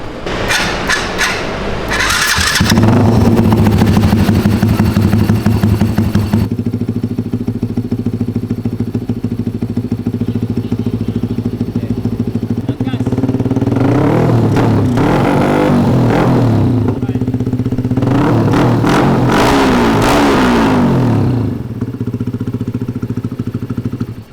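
A Yamaha Y16ZR motorcycle starts up and settles into a loud, steady idle close by, with two bursts of throttle revving climbing and falling before it drops back to idle.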